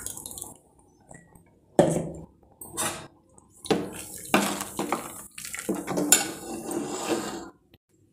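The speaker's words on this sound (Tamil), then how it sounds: "இப்போது இதில் ஊற்றிடலாம்." Ground green chilli paste is poured and scraped from a vessel into a cooking pot while making sago kanji vathal, with wet splashes and clinking metal knocks in short, irregular bursts, close by.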